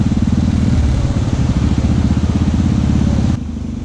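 A motorcycle engine roars steadily and close on a mountain road from Astore toward Deosai, a loud continuous rumble with a clattering texture that suddenly drops to a quieter drone near the end.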